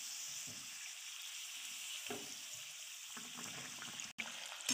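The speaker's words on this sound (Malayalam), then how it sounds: "ഇനി നമ്മൾ ചൂടായ എണ്ണയിലിട്ടൊന്ന് വറുത്തെടുക്കാം." Breaded bread pockets deep-frying in hot oil over a medium flame, producing a steady, fine crackling sizzle with a few soft bumps as they are turned, quiet and close.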